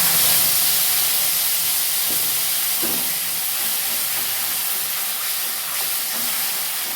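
A spice paste of cashew, tomato, green chilli, ginger, cumin, coriander powder, turmeric and chilli powder sizzles in a wok, a continuous loud hiss that slowly eases, with a couple of faint clinks and no voices.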